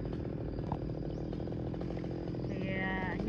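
A chainsaw drones loudly and steadily as it cuts through a thick trunk of a large, many-branched sao tree, engine pitch shifting slightly toward the end.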